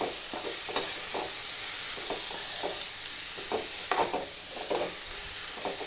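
Fresh-picked val bean pods are stirred and fried in a pan, giving a steady soft hiss with a series of scraping, clattering stir strokes spaced through it, close and moderately loud, with no voices.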